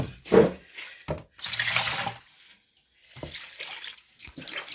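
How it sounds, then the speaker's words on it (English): Water splashes and gushes while a bucket is rinsed out during outdoor gold sluicing, coming in a few irregular close bursts separated by short pauses. "And we wash out the bucket."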